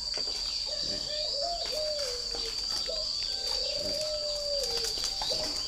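Spotted doves cooing in a breeding pen, with repeated soft throaty coos at a moderate distance over a constant high insect-like whine and steady background noise.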